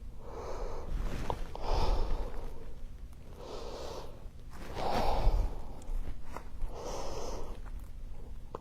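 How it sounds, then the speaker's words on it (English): Slow, deep breaths drawn through the nose during a bodyweight stretching session, several long airy inhales and exhales rising and falling in a steady rhythm, close and fairly loud with no talking. "Breathing through the nose."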